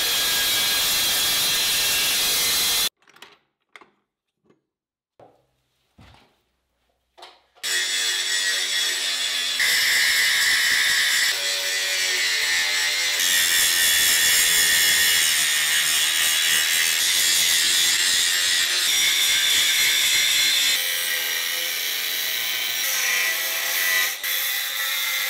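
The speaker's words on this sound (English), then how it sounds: "it's time to cut off the threaded part and sand down these ghastly welds" A power tool cuts through threaded metal and then sands down rough welds, giving a loud, sustained grinding whine with a short quiet break of scattered clanks before the long grinding resumes.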